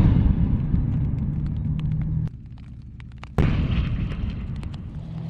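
A tank cannon fires a live round during a tank unit's live-fire assessment. One loud, sharp boom bursts out midway through a constant heavy rumble.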